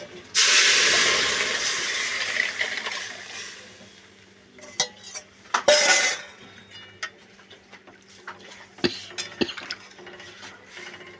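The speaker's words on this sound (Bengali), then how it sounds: "এবার আমি ডালটা দিয়ে দেবো।" Split peas (matar dal) tipped into hot oil with mustard seeds, chilli and crushed garlic give a loud, burst-like sizzling hiss that fades over a few seconds. Scattered clinks and stirring scrapes follow.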